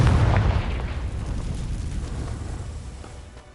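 Confringo fire spell in the Hogwarts Legacy video game bursting into a single loud boom that rolls off into a fading, crackling rumble over a few seconds.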